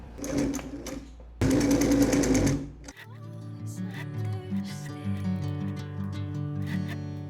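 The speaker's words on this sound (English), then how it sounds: "I'm going to carefully top stitch from one side to the other." A sewing machine top stitches a seam on a linen blouse from one side to the other, a steady run of close mechanical whirring and ticking that follows a brief pause, with faint earlier rumbling.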